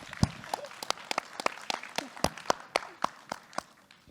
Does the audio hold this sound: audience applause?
yes